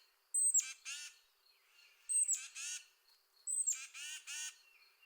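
A tufted titmouse gives three harsh raspy calls, each opened by a thin high note, evenly spaced and clear against silence.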